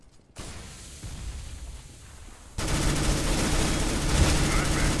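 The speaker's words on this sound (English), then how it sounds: "Throwing flashbang." A flashbang grenade goes off in CS:GO on the Dust II map, with a sharp bang followed by a harsher, louder broadband burst that carries on steadily to the end.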